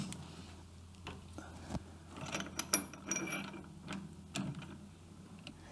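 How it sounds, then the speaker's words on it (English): Arbor press forcing down on a bent motorcycle axle-area part in a workshop, giving a series of close mechanical clicks and ratcheting creaks with a few sharper knocks, fairly quiet and without talk. "I just put it in the arbor press and press down."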